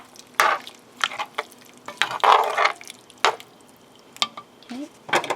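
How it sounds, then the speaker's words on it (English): A spoon stirs Irish stew ingredients in a pot, giving irregular scraping and wet sloshing strokes with light sizzling, close and moderately loud, in several bursts over a few seconds. "Stir this around."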